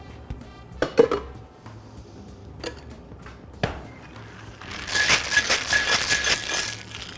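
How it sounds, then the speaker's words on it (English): Ice cubes clatter into a mixing glass while a Lady Mary cocktail with egg white and fruit juices is built, a few sharp knocks followed by a dense, louder rattle of ice near the end. "Now we can add our ice."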